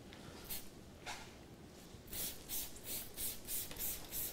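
Green Star cleaner is sprayed from a trigger bottle onto a car's lower panels during a winter wash, making soft repeated hissing bursts that start sparse and then come in a quicker steady rhythm, close and quiet.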